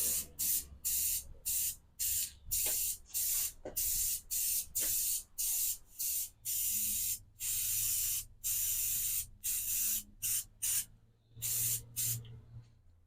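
Krylon Fusion Red Pepper spray paint hisses from an aerosol can in light, distant fogging passes, about two dozen short bursts in a steady stop-start rhythm, close and loud with brief silences between.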